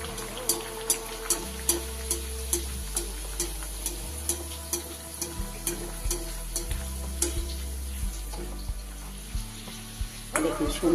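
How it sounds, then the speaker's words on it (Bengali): Spinach and potato puris deep-fry one at a time in hot oil, a steady close sizzle punctuated by regular light taps and clinks of a slotted spoon against the pan. "তেল কিন্তু আমার গরম হয়ে গেছে। একটা একটা করে আমি ভেজে নেব।"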